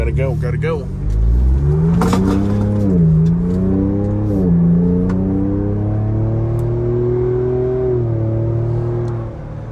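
Ford Bronco pulling away in sport mode, engine rising through rolling gear-change swells with a steady deep exhaust drone, loud and close from inside the cabin, with a brief voice near the start.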